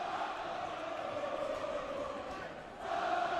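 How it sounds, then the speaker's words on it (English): Regis Jesuit Raiders fans at a boys basketball game, a steady wash of crowd noise and cheering that swells louder near the end, heard from a distance. "Raiders crowd getting excited."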